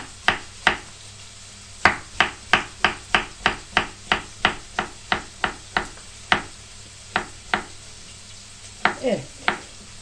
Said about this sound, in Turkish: Böyle doğrayacağım arkadaşlar.